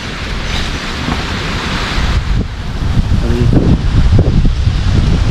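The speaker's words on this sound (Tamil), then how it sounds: "ஓ காற்றடிக்குதுப்பா பார்த்து" Strong wind blasts across the microphone in a continuous roar, growing gustier and louder toward the end.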